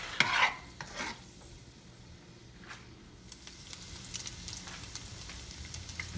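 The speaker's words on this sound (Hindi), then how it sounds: "अभी शैलो फ्राई होता है तो फिर मैं आपको दिखाती हूँ।" Chicken shallow frying in a pan while being stirred, with a few loud stirring scrapes at the start followed by a soft, steady sizzle and crackle heard up close.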